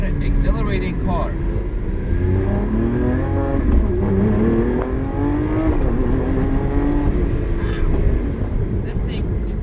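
A Lamborghini Aventador SVJ V12 engine roars and revs hard as it accelerates, a loud, close, rising growl that keeps building for several seconds.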